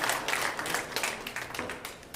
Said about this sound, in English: that applause is cheering him on